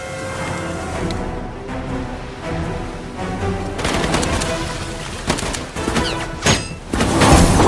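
Gunfire in an action film scene, with a mix of rapid bursts and sharp single shots cracking over a dense rumbling soundtrack, growing busier toward the end.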